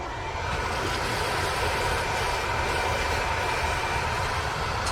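A hot hand-forged steel letter opener quenched in water gives a loud, steady, broadband hiss and sizzle that runs unbroken for the whole stretch, with no voices.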